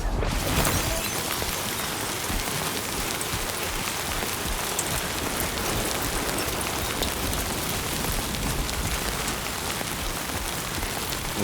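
Heavy rain pours down in the Death Stranding 2 video game, a loud, dense and unbroken hiss of drops striking surfaces close by, holding steady for the whole stretch with no talk.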